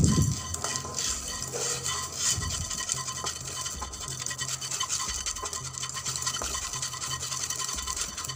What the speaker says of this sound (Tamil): மீடியம் ஃப்ளேமில் வச்சு லேஸாக வறுத்துக்கோங்க.